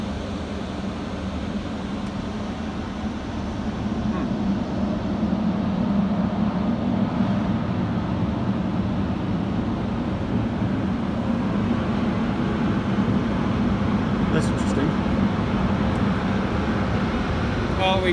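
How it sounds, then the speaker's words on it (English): A Ryko Excel automatic car wash air dryer blows in a small wash bay at an Ampol station, a loud steady roaring rush of air that builds slightly and then holds constant. "The dryer is working really well."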